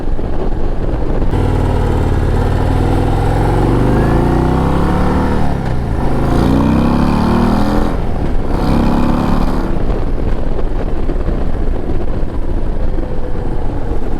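A 2025 Harley-Davidson Road Glide CVO ST motorcycle under way, its engine a loud, continuous close rumble that rises and falls as the rider revs and shifts, with steady wind and road noise throughout.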